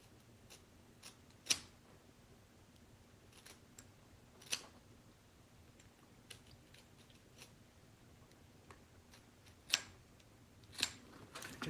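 Scissors cut through a duct tape pattern for a fursuit, giving sparse, separate snips and clicks that land at irregular intervals against a quiet room.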